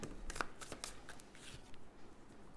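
Tarot cards being shuffled and drawn by hand, soft papery riffles and flicks with brief snaps, quiet and close, no talking.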